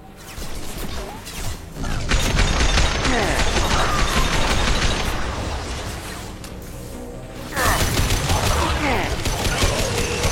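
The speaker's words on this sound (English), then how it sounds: "We're taking heavy fire, but we're moving forward." Heavy gunfire and explosions in a video game battle, a dense, continuous barrage of shots and crashes filling the whole stretch with a brief lull before resuming loudly.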